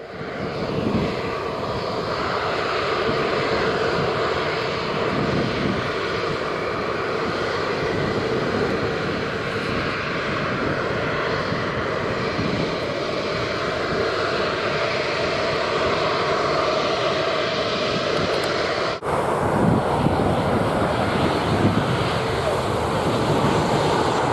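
Boeing 737-800 airliner landing at Montego Bay airport in Jamaica on a sunny day: a loud, steady jet roar throughout, with a shift in tone near the end.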